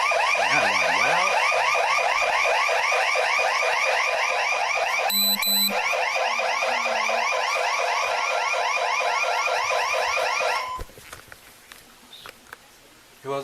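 A loud electronic alarm blares continuously in a rapid warbling pattern for about ten seconds, then cuts off, leaving quieter scattered background noise.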